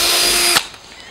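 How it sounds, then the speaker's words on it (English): Power drill boring a pilot hole with a 1/4-inch bit into a plastic drum, a loud steady whine for about half a second that stops abruptly, leaving a quiet tail. "we drill pilot holes to cut the sections out with a jigsaw. I'm using a 1/4-inch drill bit for that."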